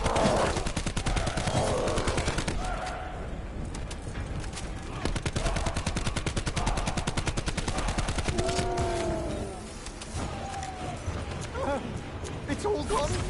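Rapid video-game gunfire rattles in dense bursts almost without pause, loud and close, while someone talks over it throughout.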